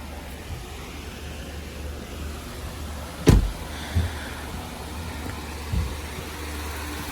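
A 2016 Ford Fusion sits running with a steady low engine hum, broken by a sharp clunk a few seconds in and two softer knocks after it.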